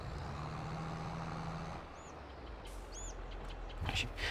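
A truck in Farming Simulator 22 idles with a low engine rumble, then cuts out partway as it pulls aside to drop its trailer, followed by a few faint clanks and high bird-like chirps over a steady background hum.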